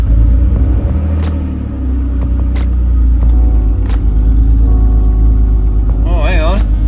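A cold BMW E46 engine idles with a steady, loud low rumble close by. It runs continuously with slight unevenness that could point to a misfire.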